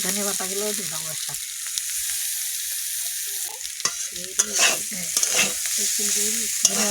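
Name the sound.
stir-frying fish curry with coriander leaves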